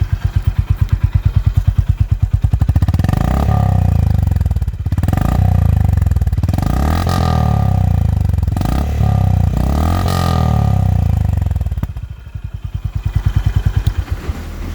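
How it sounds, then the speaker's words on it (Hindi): Honda H'ness CB 350 motorcycle with its stock exhaust, a loud, close thumping single-cylinder idle that rises through several revs and falls back between them, with no talking. "Let us now here the favourite thing which is it's exhaust note."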